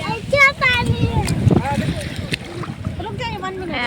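Sea waves wash in on a beach, splashing and churning water heard under several people talking and shouting excitedly close by.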